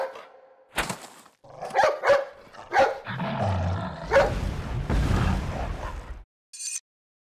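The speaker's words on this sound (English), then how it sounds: "Hey, it's that dog." A dog barks and snarls in Resident Evil 4, with several sharp barks, then a rumbling, explosive burst of noise and a brief metallic ring at the end.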